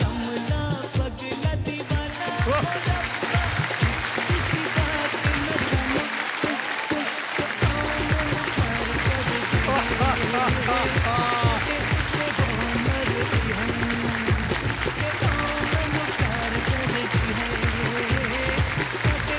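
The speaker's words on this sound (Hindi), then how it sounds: "ताली बज जाए इनके लिए" Studio audience applause on a Kaun Banega Crorepati quiz show set, loud, sustained clapping with rhythmic music under it, continuing steadily to the end.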